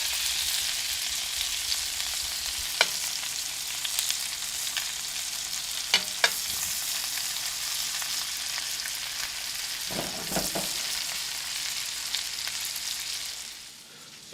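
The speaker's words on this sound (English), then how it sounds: "So all we're doing is just reheating it, tossing it in that caramelized beef fat and caramelized butter." Vegetables reheating in a pan with caramelized beef fat and butter from a ribeye dinner, a continuous loud sizzle with occasional clinks of stirring, fading toward the end.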